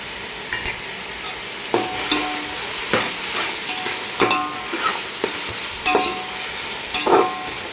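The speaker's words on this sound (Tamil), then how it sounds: "இஞ்சி பூண்டு பேஸ்ட் சேர்த்து நல்லா வதங்கினதுக்கப்புறமா" Ginger garlic paste sautéing in a pan for a goat head curry, with a steady background sizzle broken by regular scraping stir strokes roughly every second, close and moderately loud, with no voices.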